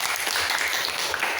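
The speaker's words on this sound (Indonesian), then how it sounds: "Oke, tepuk tangan dulu" Classroom applause from students during a lesson: brisk, even clapping from a group, close and continuous for a brief burst.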